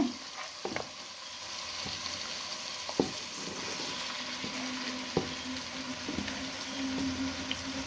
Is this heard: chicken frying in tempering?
yes